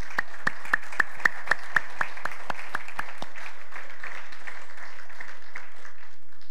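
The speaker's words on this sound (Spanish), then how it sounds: "Dele un aplauso a Cristo." A church congregation claps in unison for Christ, about a dozen sharp, evenly spaced claps that start strong and fade out over roughly three seconds, leaving the room quiet afterward.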